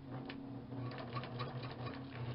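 A sewing machine stitching slowly through thick tote-bag fabric, a close, low humming motor with a steady, even pulse of needle strokes over a couple of seconds, no talking.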